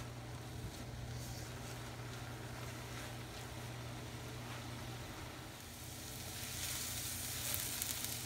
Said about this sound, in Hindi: गाजरें हमारी इस तरह भुन चुके हैं घी में